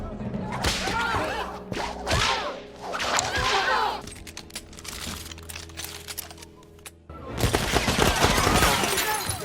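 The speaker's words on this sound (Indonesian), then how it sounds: "Indy pun mengeluarkan pecutnya untuk menyerang antek-antek dari Fuller" Several sharp whip cracks snap in quick bursts amid a chaotic action mix of clatter and gunfire-like pops in an Indiana Jones film fight scene.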